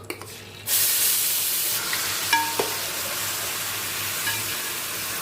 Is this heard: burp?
no